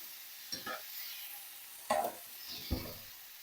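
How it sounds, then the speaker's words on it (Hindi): Chicken and julienned capsicum stirred in a hot frying pan, with a few sharp scraping stirs and a soft sizzle underneath, close and fairly quiet. "अब ये मैं पकते हुए चिकन में डाल दूंगी।"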